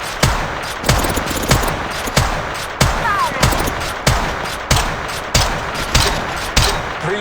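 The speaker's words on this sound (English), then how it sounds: "Shots fired at me. In combat." Gunfire in the mobile game Apex Legends Mobile, a loud rhythmic series of evenly spaced shots, roughly one every half second, continuing for several seconds.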